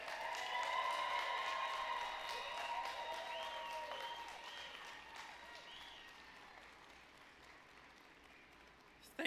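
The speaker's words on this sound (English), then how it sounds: "let's all give a loud cheer for the graduating class of Tapestry Public Charter" Audience at the Tapestry Public Charter School 2021 graduation applauds and cheers for the graduating class, with steady dense clapping and a few whistles and shouts that slowly fade across the clip.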